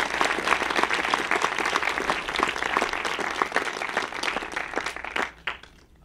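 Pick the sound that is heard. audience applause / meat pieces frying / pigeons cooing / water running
audience applause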